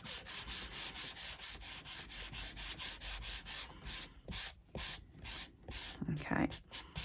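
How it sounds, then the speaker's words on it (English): An embossing buddy rubs back and forth over cardstock in a quick, regular run of soft scratchy strokes, close up, then a few slower irregular swipes, with a voice speaking briefly near the end. "I'm going to take my embossing buddy"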